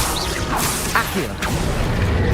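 Accio summoning spell in the Hogwarts Legacy video game: quick whooshing swishes and a couple of whack-like hits, moderately loud over a continuous game background.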